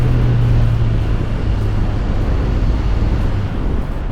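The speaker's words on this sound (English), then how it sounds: "And of course the inline 4 engine." A Honda CBR650R inline-four motorcycle engine rumbles steadily and loudly throughout, with heavy wind noise and no talk over it.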